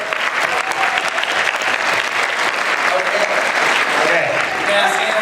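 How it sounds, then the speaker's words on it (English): A crowd at a Mega64 panel at PAX West 2016 applauds. The clapping is dense and sustained, filling the room at an even, loud level throughout. "Round of applause."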